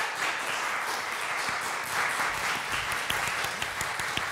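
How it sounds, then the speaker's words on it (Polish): Sustained applause from an audience for the Szczecin Philharmonic wind quintet, a steady dense clapping texture with a few sharper individual claps, fairly loud and continuous with no talk over it. "Poproszę o oklaski dla całego kwintetu Dętego Filharmonii w Szczecinie!"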